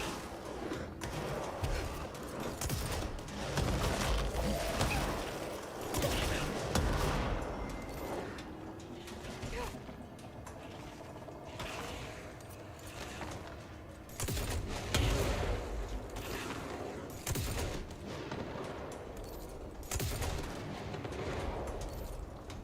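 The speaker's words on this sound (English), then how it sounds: "Somebody shot at me." Gunfire in the video game Control aimed at the player: sharp, repeated shots in bursts and volleys, fairly loud over a busy in-game background, with no talking.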